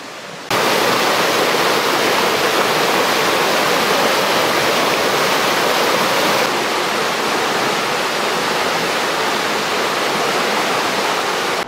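Big Spring in Missouri, a whole river of water surging up out of the ground, a loud, continuous roaring rush that holds steady throughout, close and without voices.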